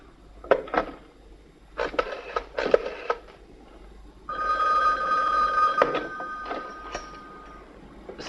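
Telephone in a 1976 desert disaster-horror film, with a number dialed on the handset. Several short clicks and rattles come first, then a sustained ringing tone with a bell-like buzz, close and moderately loud.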